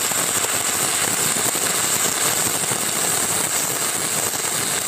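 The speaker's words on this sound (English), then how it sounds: "For 60-10 in the flat position, try a circular motion and angle the rod to build up weld." Stick welding in the flat position with a 6010 rod: a loud, continuous arc crackle and sizzle, close and steady with no pauses.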